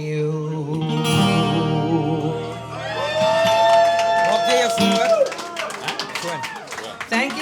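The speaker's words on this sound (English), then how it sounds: "Another round of applause for the poets, the dichters" An audience applauds and cheers for the poets after a performance, with claps and whoops rising over lingering music and voices.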